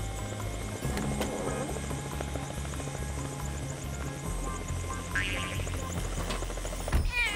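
A helicopter in a children's cartoon drones with a steady, low thumping rotor pulse, fairly close, and a few brief higher sound effects break in near the end.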